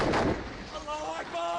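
A heavy, booming blast in Hula, Syria, rolls out loud and broad for about a second, followed by muffled background noise and faint voices.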